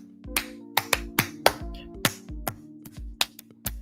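An audience at a theatrical villains show claps and stomps in a loose, uneven rhythm, about a dozen sharp, close hits spread across a few seconds with a low tonal hum underneath.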